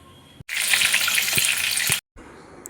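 Eggs hit hot oil in a pan for an egg curry, and a sudden loud, close sizzle bursts out for about a second and a half before cutting off sharply, with no talking.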